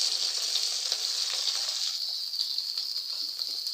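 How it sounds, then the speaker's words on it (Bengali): Local shrimp sizzle steadily in a hot pan, browning for a village-style shrimp curry with bottle gourd greens, a continuous bright hiss with faint stirring, close and alone. "এই যে আমি একটু লাল লাল করে হালকা এর সঙ্গে ভেজে নিলাম।"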